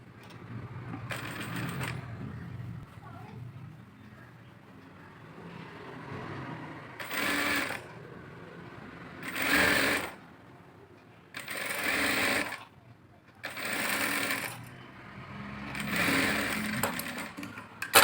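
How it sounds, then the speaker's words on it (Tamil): A sewing machine stitches the lining of a blouse in repeated bursts of rapid mechanical chatter, each lasting a second or two, separated by quiet pauses and soft handling of the fabric. "படிமான தையல் போடுறோம்."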